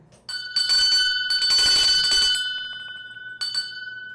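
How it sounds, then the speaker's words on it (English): A bell rings out loud and bright, its tone hanging and slowly fading over a couple of seconds, then a second short ring near the end, with no voices. "Ring the bell for me."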